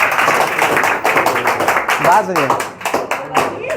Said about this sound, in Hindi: एक बार ताली हो